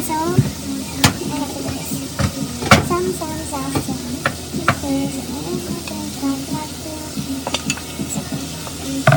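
Frozen pork sizzles loudly in a pan with carrots, a steady hissing fry punctuated by sharp stirring clicks and scrapes, with a voice talking intermittently over it.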